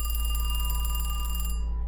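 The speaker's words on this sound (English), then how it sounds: "the phone rang again" A telephone bell rings in a quiet house, a short loud electronic trill with a fast pulsing warble, cutting off abruptly near the end.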